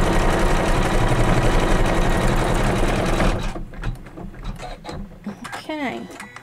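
Sewing machine double-stitching leather onto fabric for a pillow cake block, a loud steady close whir for about three seconds, then stopping into quieter handling clicks and brief speech.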